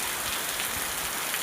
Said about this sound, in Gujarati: તો શનિવારનો વરસાદ તમે જોઈ લો